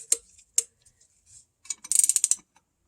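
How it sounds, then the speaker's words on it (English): An 11/16 inch wrench tightening a cross axis joint in a Mustang independent rear suspension, with a few light metallic clicks, then a quick burst of rapid ratcheting clicks, close and fairly faint, with no talking. "Go ahead and get our 11/16" wrench on here again."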